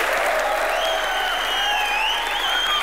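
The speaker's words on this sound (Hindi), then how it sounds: "ताली तो बजनी चाहिए।" A studio audience at a comedy show taping applauds in a sustained, even roar of many hands, with a faint tonal music line rising underneath.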